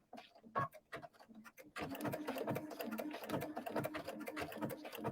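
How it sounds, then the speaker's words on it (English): A sewing machine fitted with a side cutter foot stitches and trims fabric at a slow, steady pace, with a few short bursts at first and then a continuous mechanical whir and clatter that stays close. "all I have to do is stitch. I'm not going to go really fast either"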